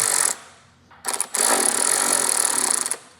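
Power tool driving and tightening the bolts of a top case rack on a 2026 Vespa GTS 310 scooter, in two close, loud bursts: a short one, then a longer sustained run after a brief pause.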